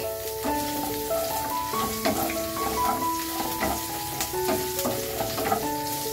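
Garlic sizzles and crackles steadily in a pan, close and continuous, with a faint melodic tone playing underneath.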